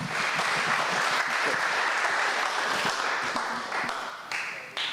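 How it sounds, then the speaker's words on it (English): An audience at an agentic AI summit breaks into a round of applause, dense steady clapping that holds for several seconds before thinning out at the end. "Big round of applause"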